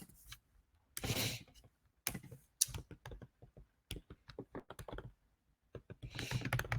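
Keys clatter on a computer keyboard as a note is typed, several quick bursts of close clicks separated by short pauses, crisp and fairly quiet with no talking.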